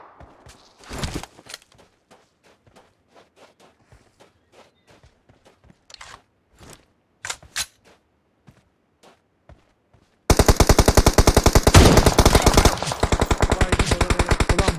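PUBG Mobile gameplay brings scattered footsteps and soft thuds for several seconds, then a loud, rapid burst of automatic gunfire that continues without pause to the end.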